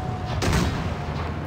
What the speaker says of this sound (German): Ein Schuss und der ist hinüber.